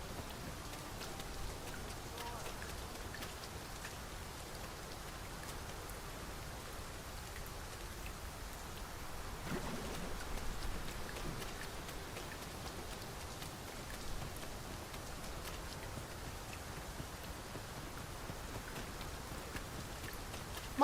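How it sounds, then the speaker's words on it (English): Steady rain falls in the video game Dragon's Dogma 2, a continuous even hiss of drops on surfaces running throughout with no talk, a faint low rumble swelling briefly near the middle. "Mind the rain, Master. The weather may yet turn"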